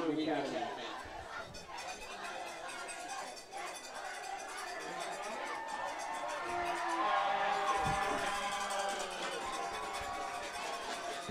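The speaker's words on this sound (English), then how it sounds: "I hear the crowd from up here in the booth." Spectators at a rainy high school football game chatter and cheer in a broad, distant crowd wash, swelling a little in the second half, with a commentator talking over it from the booth.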